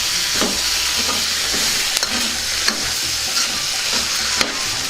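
Tomato pieces stir and fry in a pan, giving a continuous bright sizzle with repeated scraping stirs and clacks of the utensil. The sound is close and loud, with no talk.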